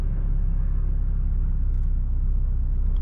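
VW Golf 8 reversing slowly under park assist, a steady, close, low engine rumble with a faint idle throb and no talk.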